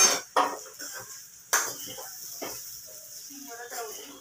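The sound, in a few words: stirring bitter gourd and peanut powder in pan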